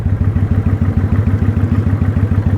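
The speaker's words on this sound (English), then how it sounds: "So on this go around, I did engine braking with a little brakes." A motorcycle slowing under engine braking, its engine giving a steady, rapid low-pitched chugging pulse, close and loud, with a faint clatter and no talking.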